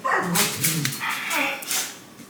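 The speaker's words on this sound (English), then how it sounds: "My dogs are playing." Pet dogs at play indoors, giving short yips, whimpers and barks in quick bursts, fairly close and loud.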